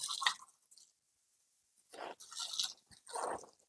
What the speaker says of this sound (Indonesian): Ini tinggal kita siram ngocor aja.